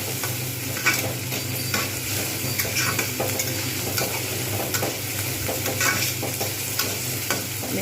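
Finely chopped onion frying in a pan for a bhetki fish curry, a dense constant sizzle broken by frequent scraping stirs and occasional utensil clinks, close up with no speech.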